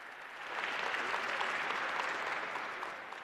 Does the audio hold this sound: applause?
yes